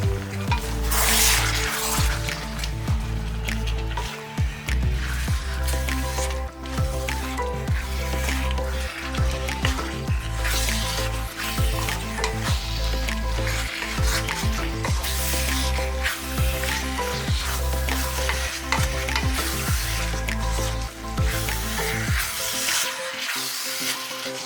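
Kerala-style beef being stir-fried in a pan after a cup of water has been added, dense continuous sizzling and bubbling with repeated scraping and stirring strokes, loud and close throughout.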